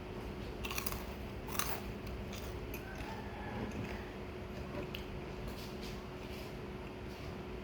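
Crunchy Thai fried dough with sweet custard being bitten and chewed up close, a soft steady crunching over a low background hum, with no talking.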